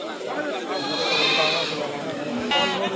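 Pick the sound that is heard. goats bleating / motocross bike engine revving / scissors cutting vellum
goats bleating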